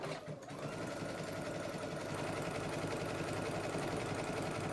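Sewing machine running a zigzag stitch for applique, a steady fast mechanical whirring and rhythmic needle ticking, close and continuous after a brief start, with no talking over it.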